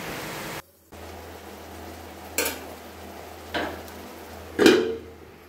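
Bitter gourd fries in oil left over from frying fritters, giving a steady soft sizzle close by. Three sharp clinks of a utensil against the pan stand out, the last one loudest.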